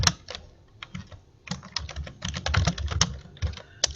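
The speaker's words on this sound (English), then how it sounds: "I'm going to mute you, Catherine, because I can hear that keyboard clicking" Computer keyboard keys click in quick irregular bursts, close and fairly clear, with a low background hum and no talking, picked up on an open microphone during an online meeting.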